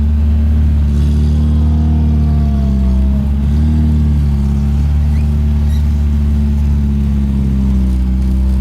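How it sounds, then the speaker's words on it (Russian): A steady low engine hum from inside a moving Zhiguli car converted into a limousine, constant and close, with slight shifts in pitch as it drives along. "Мы едем на нашем лимузине по району"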